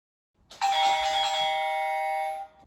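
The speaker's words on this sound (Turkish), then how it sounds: "Zil çaldı." A doorbell rings once, a bright sustained electronic chime that holds steady for about two seconds before cutting off, close and clear.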